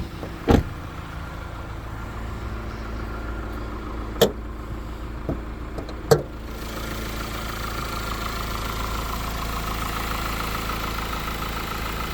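Steady idle of an Opel Insignia GS Line with a 2.0 engine rated at 174 hp, heard up close under the bonnet as an even low hum, broken by a few sharp clicks in the first six seconds.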